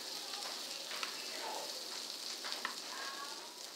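Scrambled eggs frying in a home kitchen pan, a steady soft sizzle with faint crackles and small pops running throughout, fairly quiet and close.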